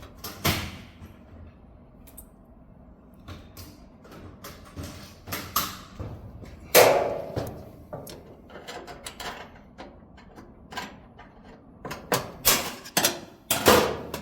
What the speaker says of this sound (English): Now we get to the rear clip. This is a flat screwdriver on this one.